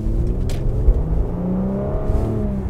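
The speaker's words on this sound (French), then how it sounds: "Oui, le petit V6 là." Mercedes GLC 43 AMG V6 engine accelerating from inside the car, a steady rising drone with climbing tones, fairly loud and close, without talk.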